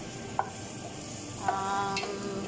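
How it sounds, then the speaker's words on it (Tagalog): Onion frying in a pan for beef stroganoff gives a steady, soft sizzle with a couple of brief utensil clinks and stirring scrapes, heard alone without voices. "So, now guys, pina-fry na natin ang onion."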